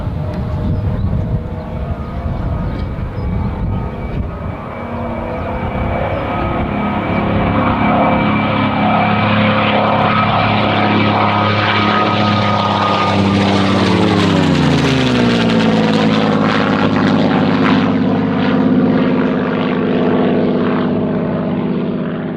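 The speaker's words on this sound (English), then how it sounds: "producing 1100 horsepower from an inverted supercharged V12 engine. It sounds glorious." A Messerschmitt Bf 109 fighter's 1100-horsepower inverted supercharged V12 runs loud and close, a deep propeller-driven roar that swells and shifts pitch as it passes, with a supercharger whine on top.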